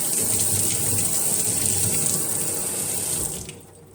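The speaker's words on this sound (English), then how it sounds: "Just going to throw some water through there really hard with my sprayer." A hard jet of water from a sprayer hisses through a sieve of tomato seeds, loud and close, a steady rushing spray that tapers off abruptly near the end, with no talk.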